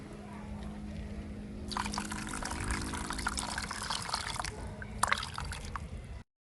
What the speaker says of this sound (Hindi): अब हम इसमें डाल लेंगे पानी